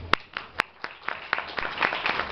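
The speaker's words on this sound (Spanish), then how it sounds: "Un aplauso" Scattered applause from a small linguistics congress audience at a university, a handful of distinct hand claps spaced irregularly, moderately loud and thin rather than a full ovation.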